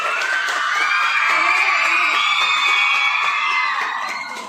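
Primary school crowd at a Republic Day celebration bursts into loud cheering, with children's high-pitched shouts and whoops over clapping, sustained for several seconds before fading slightly.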